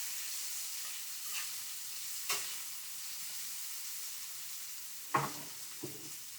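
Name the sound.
sauce cooking down in a pan for escovitch snapper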